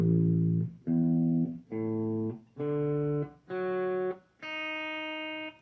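Six open strings of a guitar in drop A tuning sound one at a time, moving from the lowest to the highest. Each note rings clearly for most of a second, with brief gaps between them and no talk.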